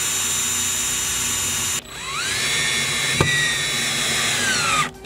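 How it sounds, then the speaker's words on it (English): A power drill with a small 1/8-inch bit whines steadily while drilling pilot holes in plywood, its pitch rising as it spins up, with a brief stop and restart partway through; no talking. "We need to also pre-drill our holes with a little 1/8 kind of drill"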